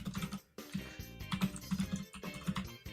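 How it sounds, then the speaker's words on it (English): Someone types rapidly on a computer keyboard at close range, dense clattering keystrokes in quick bursts with a brief pause near the start, no talking over it. "he's typing something else"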